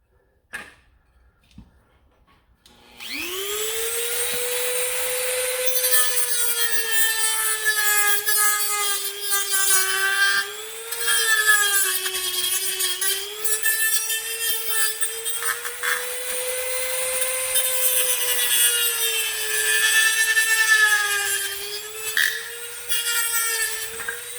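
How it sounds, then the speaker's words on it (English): A Dremel rotary tool starts after a few quiet seconds of handling noises, then whines at a steady high pitch as it cuts a part during MK3 MasterKey assembly, the tone wavering under load. "Need to do the rest with the Dremel"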